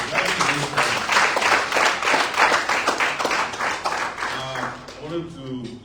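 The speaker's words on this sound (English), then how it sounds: "I want you to give them a round of applause." An audience at a public talk on Nigeria's electoral system breaks into a sustained round of applause, dense and loud, fading slightly as a voice begins near the end.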